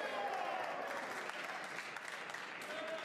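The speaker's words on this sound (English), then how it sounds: "Crowd aren't happy about that." A snooker crowd at a match between Hamza Akbar and Fan Zhengyi, a dense, steady wash of applause and murmuring from many people, with commentators speaking over it.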